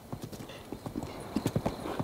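Hooves clip-clop in a quick, uneven rhythm as monsters ride horses in Zelda: Breath of the Wild, with close, repeated hoofbeats and a brief whinny under light background game ambience.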